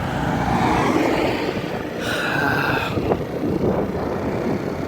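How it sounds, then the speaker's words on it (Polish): Steady road traffic on a city street, with cars passing in a continuous broadband roar that swells and eases at moderate loudness, heard from the roadside near a scooter. "Dalej, dalej w ruchu samochody są, przeczekam."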